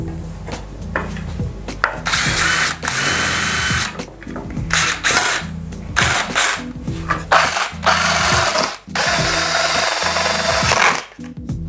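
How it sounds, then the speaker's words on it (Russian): Hole saw drilling through brittle plastic from the inside: loud, close, rough grinding drill noise with juddering, rattling bursts and brief pauses, continuous for several seconds, no voices. "я просверлю коронкой изнутри"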